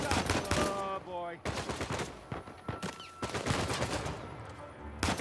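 Gunfire rattles through a tense firefight in Uncharted 4: A Thief's End: repeated bursts and single cracks stacked into a dense fusillade across the whole stretch, with game music and effects underneath.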